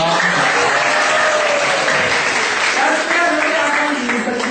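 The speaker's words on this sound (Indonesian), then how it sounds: "Tepuk tangan dong." An audience at an Indonesian talk show applauds loudly and densely, a continuous wash of clapping with voices mixed through it from start to finish.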